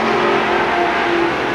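Stock cars race at Seekonk Speedway in 1984, one working the outside groove while failing to pass the number 16; a dense, steady engine drone with a sustained revving tone, loud and close.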